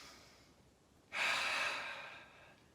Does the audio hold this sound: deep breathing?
yes